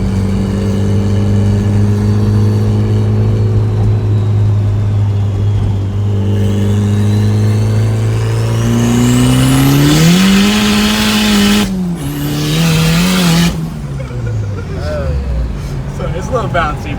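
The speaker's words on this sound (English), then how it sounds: "Giving him a ride in the turbo Ford." A turbo Ford car with a stock F22 single-cam engine drones loudly from inside the cabin during a ride, rising in pitch as it accelerates, then dropping and revving again as gears change, with tire noise.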